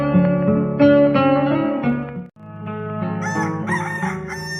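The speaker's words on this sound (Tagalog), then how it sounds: "asino aya ti akin manok iti dahita. Uray la matitilang tila paayag ko iti panagtaraok na." A rooster crows loudly and close by in two long, drawn-out calls, with a brief break between them.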